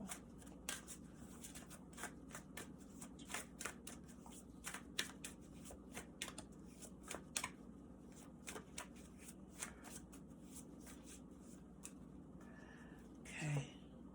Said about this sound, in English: Did I shuffle? Please let me shuffle.